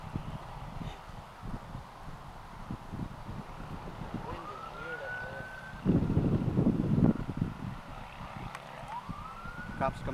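Police car siren wailing in two rising sweeps, heard in Ashland, Oregon over wind and engine noise from a small foam glider in flight, with voices chatting throughout.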